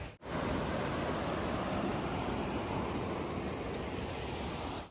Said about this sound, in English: I heard some water over here